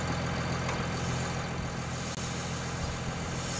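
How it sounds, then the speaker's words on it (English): A tractor engine in the video game Farming Simulator 19 runs at a steady, even idle with a low droning hum, continuous and alone for the whole stretch. "Probably move my tractor here."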